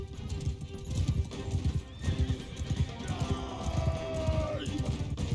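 Horses gallop in a medieval battle in the video game Mount and Blade 2 Bannerlord: a rapid, dense clip-clop of hooves with neighs and whinnies, low in level beneath quiet game sounds.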